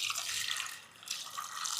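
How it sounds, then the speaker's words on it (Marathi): Water pours briefly into a pressure cooker holding peas and potatoes, a soft close trickle that pauses and resumes over a couple of seconds, with no talk. "बटाटे पाणी टाकून घेऊयात"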